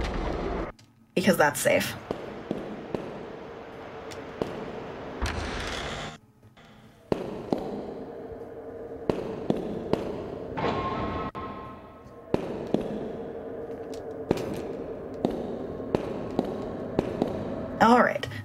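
In a speedrun video game, a planted bomb goes off in an old monastery wall, setting off a series of sharp booming blasts and bangs through the clip, with a voice talking over them.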